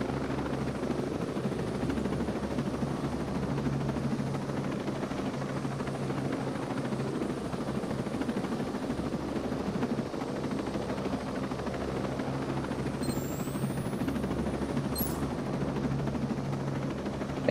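Drone rotors spinning up on the ground before lift-off, a steady whirring hum held at even level, with a brief high electronic chirp near the end.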